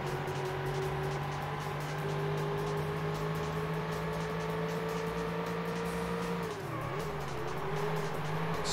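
Racing cars in the Ford Racing game during a Ford Taurus season, a sustained whining engine drone that dips briefly as gears shift or tyres squeal, steady and fairly close, with no talking.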